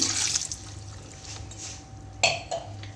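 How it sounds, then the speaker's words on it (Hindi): Roughly three-quarters of a glass of water poured into mutton cooking in a karahi, heard as a brief liquid pour and splash followed by a couple of sharper splashing bursts, close and fairly loud. "तकरीबन पौना ग्लास पानी का शामिल करना है"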